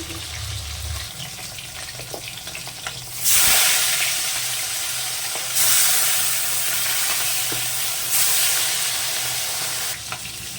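Turmeric-coated bata fish fry in hot oil in a kadai, a close, continuous sizzle that surges loudly three times as pieces go in or are turned, with no talk.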